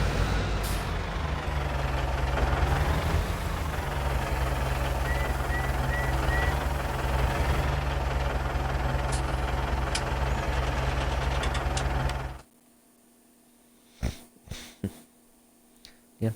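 Steady low engine rumble of a small tractor idling in Farming Simulator 19, running continuously and fairly loud for about twelve seconds before cutting off abruptly, followed by near silence with a few faint clicks.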